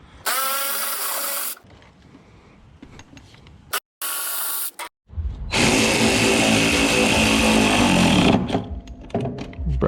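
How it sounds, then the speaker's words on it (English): Bolts holding the steering column of a classic Ford Mustang are being removed with a power tool: loud, close whirring bursts, a long one at the start, two short ones midway and a sustained run near the end. "I need to remove those bolts real quick."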